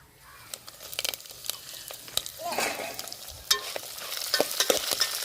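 Green chillies fry in a pan for mango pulihora, a soft sizzle with crisp crackles and intermittent stirring scrapes, close and fairly quiet.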